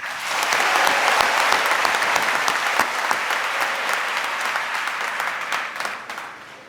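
A large crowd gives sustained applause at a high school graduation commencement ceremony, dense steady clapping that swells early and then gradually thins, heard alone without talk.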